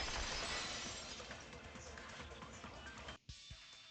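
A window shatters in Danganronpa 2: Goodbye Despair: a loud burst of breaking glass, followed by trailing crunchy debris that cuts off abruptly near the end.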